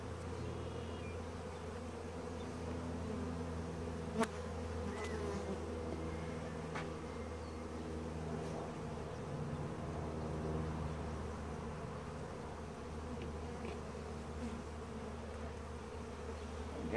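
Honey bees at a museum hive buzz in a dense, continuous drone close by, with a few faint clicks and handling sounds over the steady hum.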